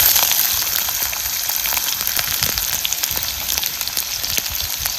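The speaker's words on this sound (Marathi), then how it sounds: "मस्त कढीपत्ता उमाललेला आहे की आता हा चिरून घेतलेला कांदा घालायचा." Chopped onion frying in hot oil with cumin seeds and curry leaves, a steady dense sizzle with crackling pops, close and continuous, with no talking.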